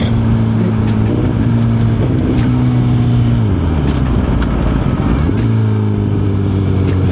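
Suzuki GSX-R 1000 motorcycle engine revving close by, holding a steady tone, dropping low and then climbing back up in a couple of throttle swells, loud with no talk.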